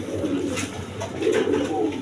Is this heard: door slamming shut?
no